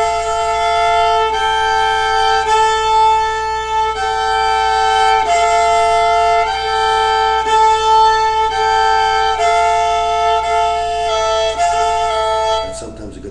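Bowed string instrument playing two strings together: a sustained drone on the second string under changing scale notes on the first string, with steady, even notes played alone and close.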